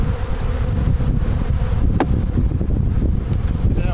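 Honeybees from strong hives set among melons for pollination hum in a dense, continuous low buzz close by, with wind rumbling under it and no voices.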